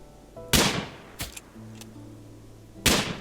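Two sharp gunshots in the colony-building game Rimworld, spaced about two seconds apart, each with a short fading tail, plus a softer click and a faint tonal blip between them.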